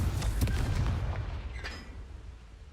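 Confringo fire spell detonating in Hogwarts Legacy, a loud deep explosive boom with crackling bursts up front that rumbles and fades away over a few seconds.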